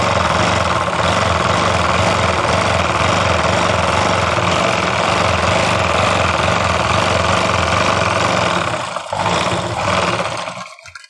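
A sewing machine stitches the leg seam of a double suit, running as a loud, continuous whirring motor hum with a fast mechanical pulse that cuts off abruptly near the end.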